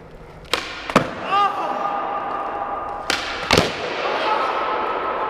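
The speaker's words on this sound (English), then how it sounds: "First kickflip on the new shoes." A skateboard kickflip done on a cruiser board outdoors, with sharp board pops and clacks near the start, wheels rolling, then a hard wooden slap of the landing followed by continued rolling rumble, close by.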